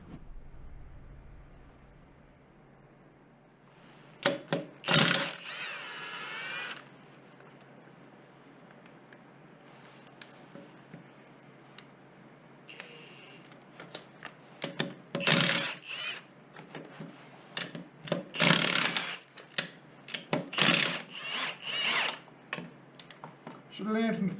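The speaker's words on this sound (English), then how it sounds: "Right, let's take off these wheels." Hand tools remove the wheels from a rusty Toyota Hilux under restoration, producing irregular ratcheting clicks, metallic clanks and scattered sharp knocks that grow busier toward the end, heard close in a quiet space.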